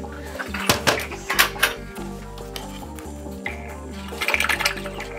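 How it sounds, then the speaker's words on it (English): Water drains out of a seedling tray and rushes back into a bucket, a gurgling, splashing flow with a few louder sloshes and knocks, close by. "all the water rushes back into the bucket"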